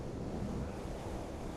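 Ocean waves on a beach, a faint continuous low wash of surf mixed with wind noise, alone without voices.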